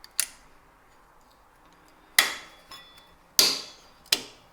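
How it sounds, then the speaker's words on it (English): Sharp metallic clicks and snaps as vice grip pliers work on a Toyota J160 transmission part in a garage, four distinct close hits spaced over a few quiet seconds. "Alright, now we'll grab a pair of pliers. Vice grips."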